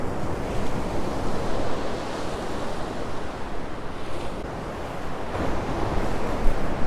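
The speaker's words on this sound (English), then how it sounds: "Pretty sure we're sitting above the waves." Ocean waves surge and wash steadily around a fishing boat out at sea, with wind buffeting the microphone; a continuous, fairly loud broadband roar with no talk.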